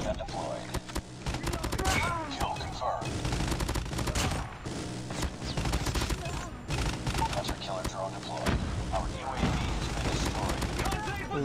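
Rapid bursts of Call of Duty Mobile gunfire crack repeatedly and loudly from an assault rifle and an automated sentry turret, dense and almost continuous, with a player talking over the shots.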